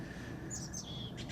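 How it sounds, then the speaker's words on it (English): Birds chirping and tweeting outdoors, a few faint high calls over a low, steady background hum, distant and quiet. "I hope that you can hear over all the birds and"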